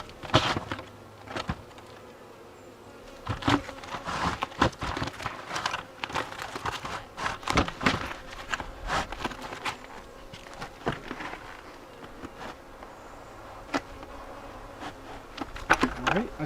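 Honey bees buzz around an open hive, with close passes and intermittent crackling and rustling from handling the hive, plus occasional faint talk.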